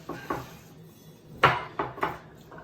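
A steak quesadilla is flipped in a pan: a few light metallic knocks and clatters of a utensil against the pan, close and sparse, with quiet background between hits.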